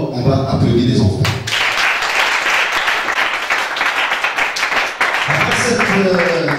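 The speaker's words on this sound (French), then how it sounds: "on va applaudir les enfants" An audience at an NGO event applauds children, steady loud clapping that follows a spoken voice and gives way to speech again near the end.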